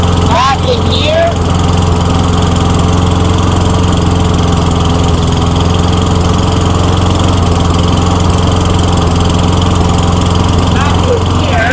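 Craftsman lawn mower engine idling while being adjusted, a loud steady close drone with a constant low hum, and a voice briefly cuts in near the start.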